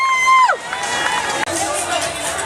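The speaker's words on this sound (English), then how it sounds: "More cheering, more cheering!" Crowd cheering at the New York Marathon in 2013, dense shouting and whooping spectators heard close and loud, with a brief whistle-like tone at the start and continuous babble throughout.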